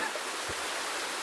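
A hidden waterfall near Shahapur produces a steady, broadband rushing hiss, constant and fairly distant, with no voices.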